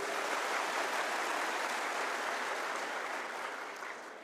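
A crowd at a public rally claps loudly and continuously for several seconds, the broad wash of hands gradually thinning and fading toward the end, with no speech over it.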